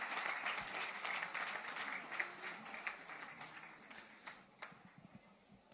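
Faint audience applause at an award ceremony for Dr. Rupa Salwan, steady clapping that gradually fades with a few scattered claps trailing off.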